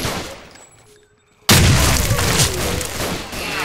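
A grenade explodes in STALKER: Call of Pripyat, a sudden loud close boom after a quiet stretch, followed by a sustained rumbling roar with scattered crackling debris that slowly fades.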